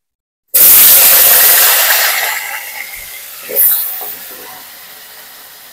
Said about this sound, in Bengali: আমি মাছ ভাজা তেলের ভিতরে আলুগুলো লাল লাল করে ভেজে নেব।